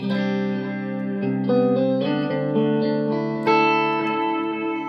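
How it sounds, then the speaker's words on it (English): Electric guitar chords through a Boss MS-3 running two delays at once ring out with thick, stacked delay repeats smearing each change into a dense echoing wash, steady and loud with no talking. "if you want a little bit over the top delay sound, you can have 2 of them at the same time"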